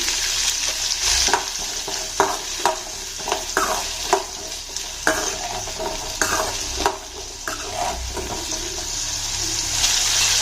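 Onions fry in a pan with salt while a spoon stirs them, steady soft sizzling broken by repeated scraping strokes. Up close, no talking.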